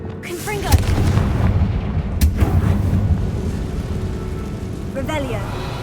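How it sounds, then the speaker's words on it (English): A Confringo fire spell explodes in Hogwarts Legacy inside a tomb, making a sustained booming rumble with sharp cracks and a couple of sudden blasts, loud and close throughout. "Confringo!"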